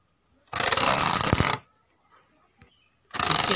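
Homemade toy tractor built from a matchbox, driven by a small battery motor, whirs loudly in two bursts: about a second of buzzing, a quiet gap with faint clicks, then the whirring starts again.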